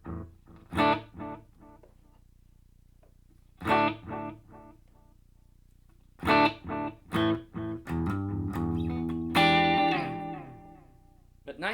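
Short electric guitar phrases play through a Yamaha THR10 II amp with an echo effect, separated by silence, before a sustained chord rings out with a lingering decay, fairly quiet and close.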